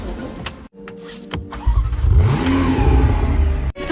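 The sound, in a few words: 3.9 litre twin-turbo V8 engine starting and revving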